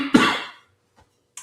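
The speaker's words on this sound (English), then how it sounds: "a bit of a cold, so I'm coughing a little bit" A single sharp cough from a speaker with a cold, close and abrupt, fading quickly into near silence with a faint short noise afterward.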